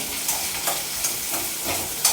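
Food sautéing in a pan gives a continuous broadband sizzle, with soft regular stirring scrapes roughly every few tenths of a second.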